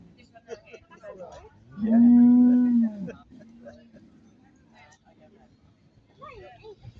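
Cattle moo once loudly and close, a sustained bellow lasting about a second, amid livestock judging at the Royal Norfolk Show, where white British White and Sussex cattle are shown while an announcer talks.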